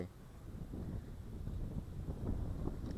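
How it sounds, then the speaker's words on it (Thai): Strong early-evening wind buffets a microphone outdoors under a darkening sky during a food delivery run, a continuous low rumbling roar with no other clear sounds. "แอบมีลมแรงนิดนึง"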